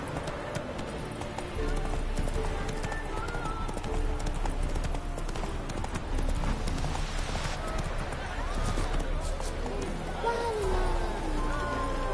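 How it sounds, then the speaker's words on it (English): Hooves clip-clop at a gallop as a horse runs in The Witcher 3 video game, with steady rhythmic thuds under speech and background game sounds. "Run, Roach"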